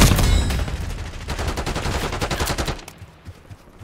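Rapid automatic gunfire in Call of Duty Black Ops 6, loud bursts of close shots in quick succession for nearly three seconds before cutting off into quieter scattered sounds.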